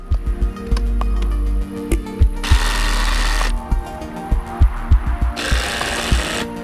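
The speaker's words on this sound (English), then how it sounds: "we can secure it with screws down into the floor" Screws are driven down into the wooden floor of a modern sauna being built, with two loud, sustained buzzing bursts from a power driver, each about a second long, set among close rhythmic knocks and taps on timber.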